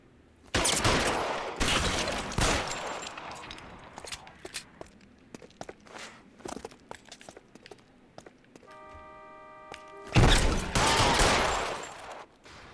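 A shootout in L.A. Noire: loud volleys of gunfire open the scene, followed by scattered sharp shots and footsteps, then another heavy burst of fire near the end.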